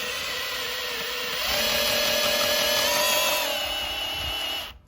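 A drill spins the oil pump to prime a rebuilt 3.4L V6 in a 1986 Jeep Comanche XLS, giving a steady, close motor whine that rises in pitch partway through and then cuts off abruptly near the end.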